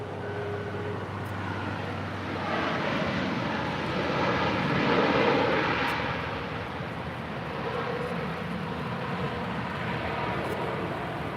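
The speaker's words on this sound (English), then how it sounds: "That was Aeromexico 642 coming in from Mexico City on a 737 MAX 8." An Aeromexico Boeing 737 MAX 8 jet landing at LAX gives a broad, loud roar that swells and fades over several seconds against steady airport background noise.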